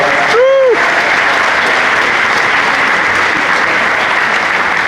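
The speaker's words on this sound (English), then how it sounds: "let's give our Korean War veterans a round of applause as well" Audience aboard the Oasis of the Seas cruise ship gives a loud, sustained round of applause for Korean War veterans at a Memorial Day military salute, with a whistle near the start.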